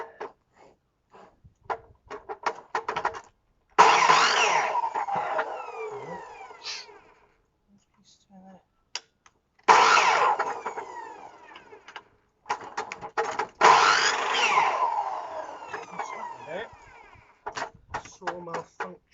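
A malfunctioning power saw buzzes through wood in two long bursts, loud and close, with scattered clicks and shorter cuts around them and pauses between.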